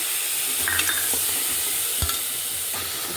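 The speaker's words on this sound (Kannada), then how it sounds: "ಚೆನ್ನಾಗಿ ಫ್ರೈ ಆಗಲಿ ಎಣ್ಣೆಯಲ್ಲಿ ಟೊಮೆಟೊ ಎಲ್ಲ" Capsicum and tomato fry in oil for village-style country chicken biryani, with a steady close sizzle broken by occasional stirring scrapes and knocks in the pan.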